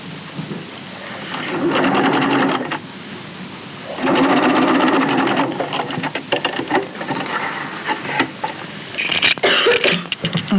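A sewing machine stitches a piped fabric seam in two steady whirring runs separated by a pause, followed by shorter start-stop bursts with mechanical clicks, close and fairly loud.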